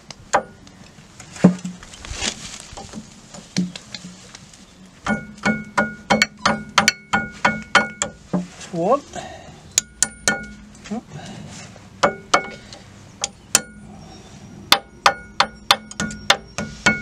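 Hammer blows knocking out a brake pin on a Land Rover Discovery 300 Tdi during a rear disc brake change, sharp metallic strikes in irregular bursts, some rapid runs of hits, with brief voices between.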